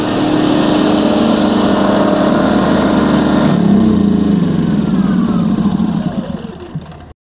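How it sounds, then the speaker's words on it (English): Two Champion 2000-watt inverter generators run indoors together, a steady close buzzing hum with a brief shift in pitch midway before the sound fades out at the end. "So we've got two generators going right now."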